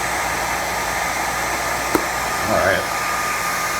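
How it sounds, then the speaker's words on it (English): A blow dryer runs steadily on heat, giving a constant loud rushing hiss throughout. A short click lands near the middle, and a brief spoken word comes near the end. "this is how you want to do this, with a little bit of heat in the blow dryer and just feel it really slowly"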